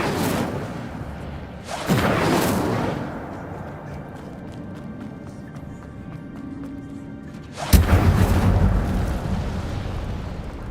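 Two loud fiery bursts of the Incendio fire spell in the video game Hogwarts Legacy, each a whooshing blast that trails off into a low rumble, separated by a few seconds of quieter ambience.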